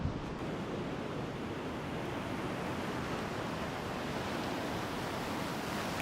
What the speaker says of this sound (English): nice, quiet walk on the beach